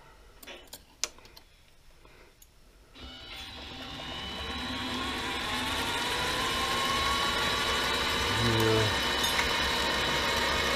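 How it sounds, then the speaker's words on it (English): Lathe cutting a small plastic washer on a Pratt & Whitney machine, with faint clicks at first, then a steady whirring cut that swells gradually and holds, close and fairly loud, with no talk. "I'm going to machine a plastic washer to go in there."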